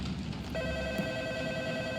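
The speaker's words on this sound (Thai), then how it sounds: "ทำไมเสียงโทรศัพท์ดังอะ" A telephone rings steadily inside a Roblox hotel game, its electronic tone continuing for about two seconds at moderate, slightly distant volume with no talk.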